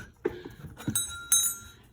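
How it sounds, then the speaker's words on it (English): Small brass bells, one stamped with the word supper, struck a few times in quick succession, each strike a bright ringing tone that fades out under a steady low background hum. "Couple of brass bells. This one says supper on it."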